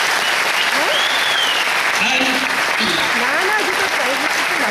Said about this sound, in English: Put your hands together for these children.